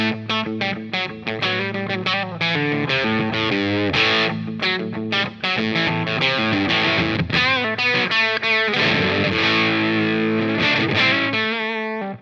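Electric guitar riff played through an EarthQuaker Devices Zoar dynamic distortion pedal at moderate gain with the guitar volume rolled back, giving a loose, rough, open tone; choppy chords and single-note phrases run steadily and loud for the whole stretch with no voice.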